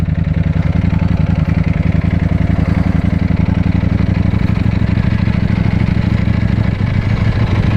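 Ducati Panigale V4S motorcycle riding through a London park area, its engine a loud, close, steady throbbing drone throughout.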